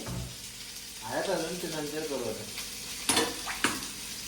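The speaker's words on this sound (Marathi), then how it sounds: "बागडा फ्राय चालू आहे काय आता" Whole bangda (mackerel) fish frying in a pan, a soft steady sizzle running beneath a person talking nearby, with a couple of sharper clatters near the end.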